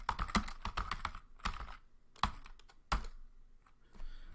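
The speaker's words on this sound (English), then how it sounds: "we're going to find the path of the program Firefox by typing which Firefox." A short burst of typing on a computer keyboard as a Linux command is entered, quick close clicks in uneven bursts with a few isolated key presses and brief pauses between them, and no one talking.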